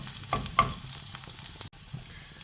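Eggplant is sautéed in a frying pan with tomato paste and turmeric for a quick diet dish, giving a short burst of stirring scrapes over a soft, close sizzle.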